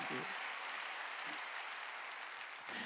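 A church congregation claps together during a Korean sermon, making a steady, full wash of applause that lasts for the whole moment. A voice is faintly present within it.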